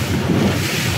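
A Honda BF150 outboard engine drives a boat cruising at just under 22 knots, with a steady, loud engine hum mixed with wind buffeting and rushing water, continuous throughout.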